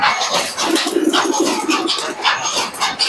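Soft, low cooing of pigeons repeating through the clip, mixed with scattered chirps and rustling close by.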